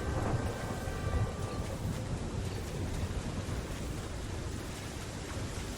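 A storm in the video game Fortnite gives a continuous low rumbling roar like wind and surf, steady and moderately quiet throughout, with no voices.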